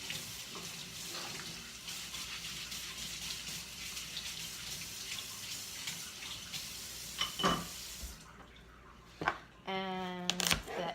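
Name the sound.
scrubbing a carrot under running tap water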